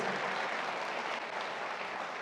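Audience applause at a fan meet celebrating a film, a dense, even wash of many hands clapping continuously, with no voices over it.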